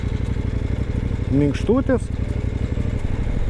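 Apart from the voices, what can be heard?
KOVE 800 Adventure motorcycle engine at low revs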